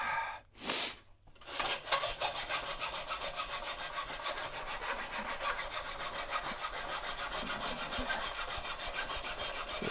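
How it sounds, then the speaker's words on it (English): A hacksaw cuts by hand in a garage workshop, close and loud, starting with a few separate strokes before settling into fast, continuous back-and-forth rasping, with no voices. "Just give me the damn hacksaw."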